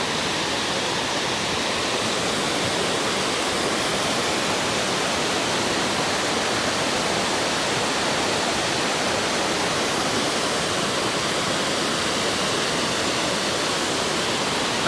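Kuang Si waterfall in Laos pours into its clear lagoon, a steady, loud broadband roar of falling water that holds constant and dense throughout, with no voices.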